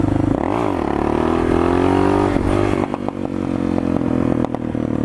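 A Suzuki DR650 motorcycle engine revving hard during a wheelie, a loud close drone that climbs in pitch, holds, then drops off into rougher, choppier engine noise with a few sharp clicks.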